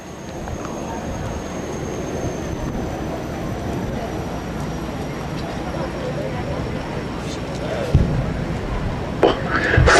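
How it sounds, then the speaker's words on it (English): A jet-powered porta potty with a GE J79 jet engine, the kind used in the F-4 Phantom, runs at an air force base airshow: a sustained roaring rush with a thin high whine, and voices underneath. "powered by a GE J79 jet engine, same that's in the F4 Phantom."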